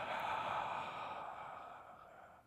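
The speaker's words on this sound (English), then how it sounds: "Take a couple of breaths." A slow, deep breath during a yoga class, heard as a long, steady airy exhale close to the microphone that gradually fades over a couple of seconds, with no talking.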